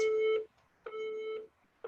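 A workout interval timer sounding two long electronic beeps and the start of a third, loud, close and evenly spaced with short gaps between, alone without voices.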